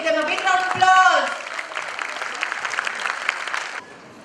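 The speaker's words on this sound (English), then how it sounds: "Give them a big round of applause." Parents in an audience clap steadily at a children's annual day celebration, a dense burst of applause that follows a brief spoken phrase and carries on for several seconds before cutting off.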